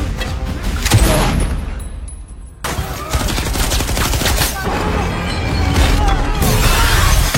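A film gunfight erupts in loud, dense volleys of gunfire with sharp cracks and crashing impacts, nearly continuous and close, under faint narration.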